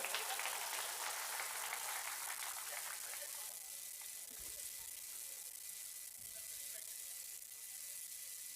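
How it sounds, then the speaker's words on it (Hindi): Sustained applause from a mushaira and kavi sammelan audience at Mahua welcoming poet Sunil Kumar Tang, a steady broad crackle of clapping from start to finish. "जोरदार तालियों में इस्तकबाल"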